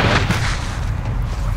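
A bomb blast in Call of Duty Warzone Resurgence, a loud, dense rumbling boom with crackling gunfire-like texture sustained throughout, close and alone without talk.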